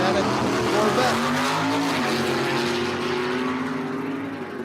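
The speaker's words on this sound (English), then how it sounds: "Chuck Weber in his F-stock automatic Corvette." Drag racing cars launch at Empire Dragway, among them an F-stock automatic Corvette, with loud engines roaring and rising in pitch before the sound eases and fades slightly toward the end.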